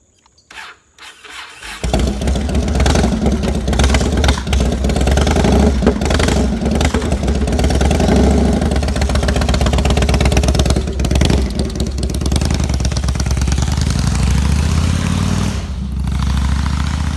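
A vehicle engine cranks and catches after a brief quiet start, then runs steadily and loudly up close as it drives off, a sustained mid-pitched drone with slight shifts, no talking.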